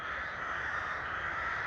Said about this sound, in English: Hear the crows in the trees